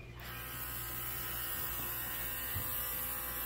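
A paint sprayer applies ceramic coating to a 2022 BMW M8 Competition in a detailing shop, giving a steady, close hiss that runs unbroken throughout, with the low hum of overhead fans underneath.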